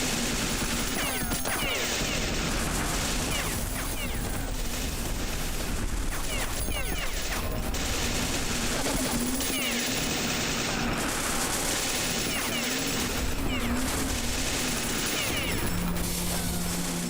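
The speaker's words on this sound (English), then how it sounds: "And so many things shooting at me." Rapid bursts of automatic gunfire from enemies in the shooter game Beyond Citadel, dense and continuous, with overlapping shots and mechanical clatter over a steady background hum.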